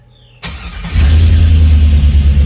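A Jeep YJ with a swapped 5.3 LS V8 cranks over briefly after a quiet moment, then catches and settles into a loud, steady low idle close by, with no voices.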